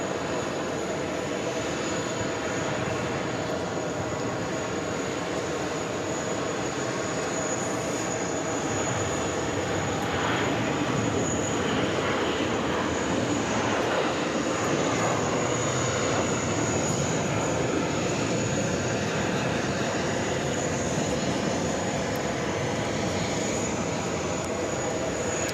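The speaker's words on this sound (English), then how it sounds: "Next takeoff is Delta, flight 1419, heading to Fort Lauderdale," A Delta Airbus A321 takes off at JFK airport, bound for Fort Lauderdale, with a loud, continuous jet roar that holds steady from start to finish, with no voices over it.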